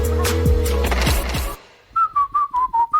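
After a burst of musical jingle, a person whistles a short series of clear, repeated notes, six quick tones close and fairly loud.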